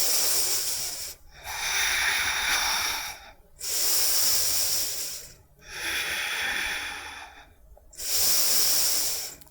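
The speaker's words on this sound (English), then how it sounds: "3 more deep breaths." Slow deep breaths taken during a hatha yoga session, four long airy exhalations with clear pauses between them, close and steady, with no talking.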